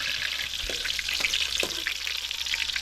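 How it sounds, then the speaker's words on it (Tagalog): Adobo frying in a pan, a steady broadband sizzle with a few soft stirring knocks, close and continuous with no talk. "Tayo magluluto ng adobo."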